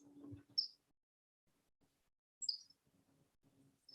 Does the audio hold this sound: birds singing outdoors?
yes